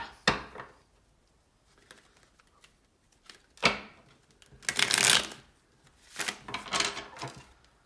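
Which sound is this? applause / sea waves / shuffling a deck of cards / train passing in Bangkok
shuffling a deck of cards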